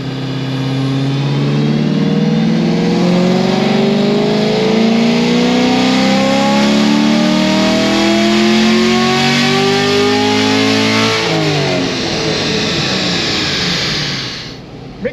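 A 700-horsepower naturally aspirated LT1 Camaro engine on a dyno pull, revving loud and steady as its pitch climbs through a long sustained run, then cutting off sharply near the end.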